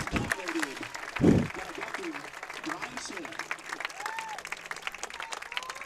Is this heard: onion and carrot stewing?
no